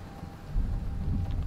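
Rain falls over the city of Markarth in the Skyrim video game, a dense steady hiss with a low rumble of thunder that swells partway through, with no voices.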